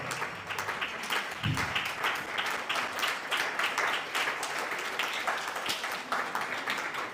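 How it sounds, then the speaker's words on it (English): A conference audience applauds a speaker at an innovation and entrepreneurship event, a steady wash of many hands clapping that stays even and continuous throughout. "Ladies and gentlemen, a round of applause for Honorable Kennedy Ohene Ejapon."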